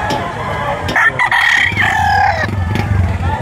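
A rooster crows loudly and close by at a gamefowl market in Lipa, Batangas, one long drawn-out call with other fowl clucking and a low murmur of background noise underneath.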